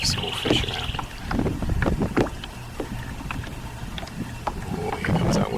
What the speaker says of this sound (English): here comes that wind again